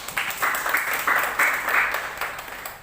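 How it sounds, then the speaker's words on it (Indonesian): A church congregation claps in praise of Jesus during a worship service, with several bursts of applause in uneven rhythm, moderately loud and somewhat distant. "beri tepuk tangan buat Tuhan Yesus"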